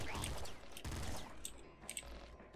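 Assault rifle bursts in the Nuclear Throne video game, quick volleys of small clipped shots with game effects at low overall volume, the firing thinning into scattered pops toward the end.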